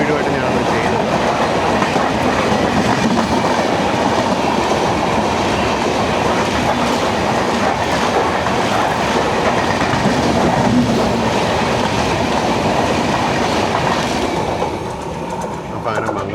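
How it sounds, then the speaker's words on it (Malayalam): Mangala Express rushes past at close range, a loud, steady roar of wheels and carriages with rhythmic clatter sustained throughout, easing only slightly near the end. "അപ്പോൾ അങ്ങനെ മംഗള എക്സ്പ്രസ് പോയി."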